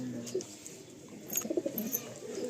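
A large Nazra Kaldom pigeon coos softly in short low bursts, close by against a quiet background hiss.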